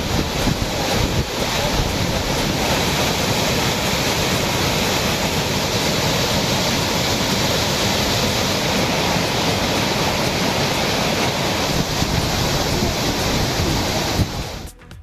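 A flooded Megamalai waterfall in a forested area of Theni district roars with rushing water. The dense, unbroken torrent stays loud and constant for about fifteen seconds, then cuts off abruptly near the end.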